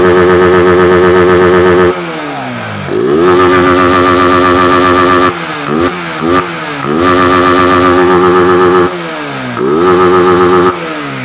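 A Honda CB150R motorcycle engine revs repeatedly on a test ride, loud and close, holding steady high-pitched drones that dip and climb again between throttle blips, with no talk.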